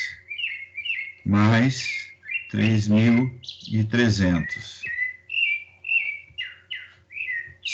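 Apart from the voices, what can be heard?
rufous-bellied thrush (sabiá) singing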